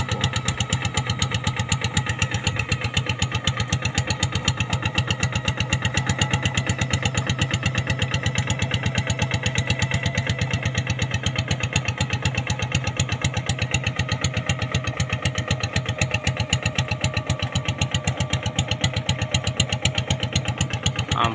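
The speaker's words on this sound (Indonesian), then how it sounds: "Sampai gak mau jalan traktornya karena terlalu dalam." A hand tractor engine chugs steadily while ploughing a deep, muddy field, its fast, even put-put pulses loud and close throughout with no break.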